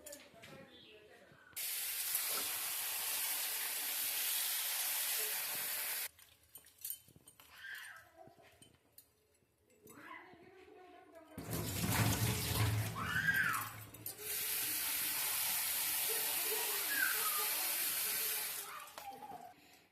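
Bitter gourd washed under a running tap, with bursts of spraying, splashing water broken by short pauses and handling noises, close and fairly loud.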